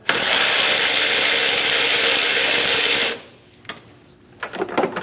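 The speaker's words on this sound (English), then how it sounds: "We're going to use our 10mm socket and loosen the tie down." Ratchet with a 10mm socket loosening a car battery tie down on a 2005-2009 Subaru Legacy, a rapid continuous clicking buzz for about three seconds, close and loud, followed by quieter handling clatter.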